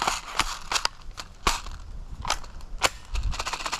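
An 11.1-volt electric airsoft gun firing, a handful of sharp, close cracks spaced irregularly, with faint handling noise between shots.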